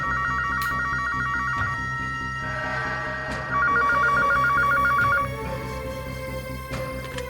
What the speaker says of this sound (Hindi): फोन लगा के देखता हूँ,